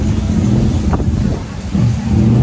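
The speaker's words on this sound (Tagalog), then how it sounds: "Grabing kusugan sa hangin." Steady roaring wind in Armenia buffeting the microphone beside a main road, a dense low rumble that holds loud throughout with a brief dip near the middle.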